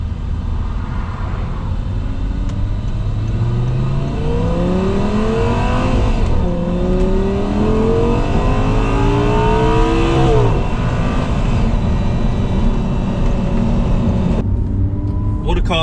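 Audi R8 with a V10 engine accelerating hard, its loud rising engine note sweeping up through the gears in several climbs with a brief drop between shifts, close and sustained over steady road noise.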